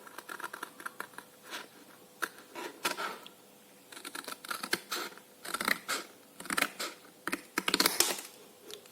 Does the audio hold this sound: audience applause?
no